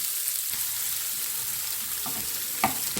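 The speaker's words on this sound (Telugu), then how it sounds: "సో జీలకర్ర ఆవాలు కొద్దిగా వేగగానే ఉల్లిపాయలు వేసుకుందాం." Onions frying in hot oil with cumin and mustard seeds for a banana flower curry: a steady, soft sizzling hiss runs throughout, with a few sharper crackles near the end and no talking.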